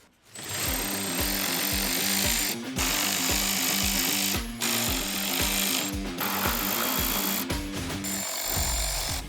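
A power tool backs out 10mm bolts from the OEM mud flap on a 2016-2023 Toyota Tacoma, a loud buzzing rattle in repeated bursts broken by short pauses.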